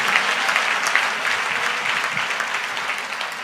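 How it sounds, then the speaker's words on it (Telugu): An audience claps loudly and steadily, a dense close burst of applause with no pauses. "కొట్టు గట్టిగా కొడితే చప్పట్లు గట్టి కొట్టు"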